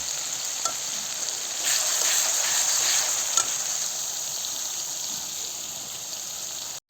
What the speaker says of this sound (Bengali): আবারও একটু নাড়াচাড়া করে নিচ্ছি যাতে তলা না লেগে যায়